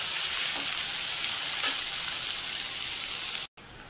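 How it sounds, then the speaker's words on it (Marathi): Onion sautés in oil until soft, giving a close, steady frying hiss with faint stir scrapes, loud and even before cutting off abruptly near the end; no talk is heard. "हलकासा मऊ होईपर्यंत परतून घ्यायचा आहे तेलामध्ये"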